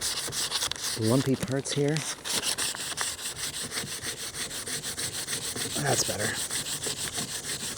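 Fine 600-grit sandpaper rubs back and forth over peeling paint on a Honda car roof in a steady, close scratching rhythm, with a person speaking briefly over it.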